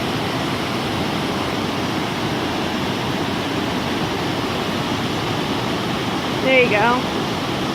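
Steady, full roar of Glenn Alpine Waterfall near South Lake Tahoe, loud and close, a continuous broadband rush of falling water with a brief voice speaking near the end.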